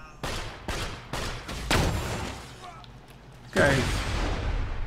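Repeated gunshots and bursts of fire in the video game Borderlands 2, several loud sharp volleys in rapid succession with a heavier blast near the end, while someone speaks briefly over them.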